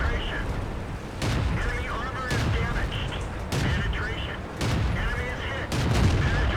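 Rapid cannon rounds fired from a tank in a tank video game, a string of about six sharp, loud broadband blasts spaced roughly a second apart over a rumbling engine bed, with a voice talking between shots.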